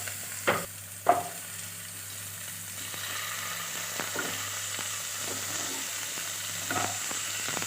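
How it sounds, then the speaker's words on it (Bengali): Chicken frying in a pan with green chillies, a soft continuous sizzle with a few sharp clanks of a spoon stirring against the pan early on, heard close and quiet with no talking. "চিকেনটাকে খুব ভালো করে ভেজে নেব।"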